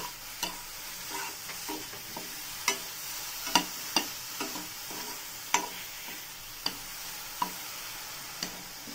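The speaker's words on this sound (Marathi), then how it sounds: "हे मस्त असं छान आपल्याला हलवून घ्यायचं याला." A spoon stirs sugar into a milk bread cake mixture, with soft scraping and evenly spaced light taps of the spoon against the bowl, quiet and close, with no one speaking.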